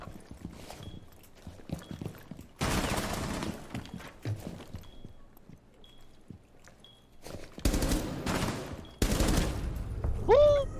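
Rainbow Six Siege gunfire comes in several dense bursts of rapid shots, loud and close, separated by quieter stretches of footsteps and small game sounds, with a rising electronic tone near the end.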